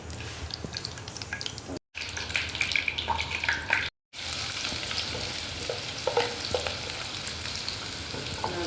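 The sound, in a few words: onions frying in oil in a wok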